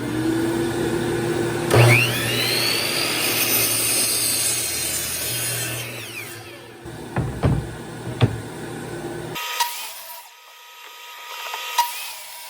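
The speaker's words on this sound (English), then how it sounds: "So I'm going to go ahead and trim off this end before we start cutting." A saw trims about a quarter inch off the rough factory end of construction-grade 2x4 lumber, a close whirring cut that winds down, followed by scattered clunks and knocks against a quieter background.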